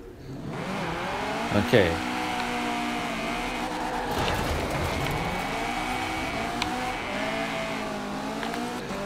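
A KTM X-Bow GT4 launches hard in Forza Horizon 4, its engine revving and climbing through the gears in a loud, steady roar, while a voice briefly speaks over it.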